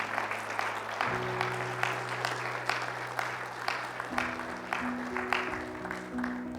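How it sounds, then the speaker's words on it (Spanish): A church congregation claps for the Lord at the close of a service, with sharp hand claps landing in a steady beat over sustained keyboard chords that change partway through. "denle un aplauso fuerte al Señor"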